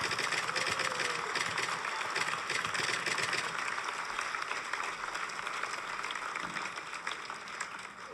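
A concert audience applauds the band, a continuous even roar of clapping at moderate distance with no single claps standing out.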